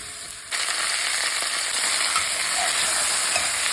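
Cubed pork hits hot oil with browned garlic, jumping abruptly into a loud, bright, continuous sizzle that holds steady and close after a quieter start.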